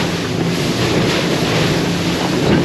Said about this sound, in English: The ocean's angry right now.